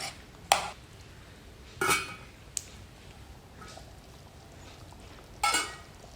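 A spoon knocks and scrapes against a pan while fried paneer is stirred into masala, four distinct clinks spaced irregularly over quiet background, no voices.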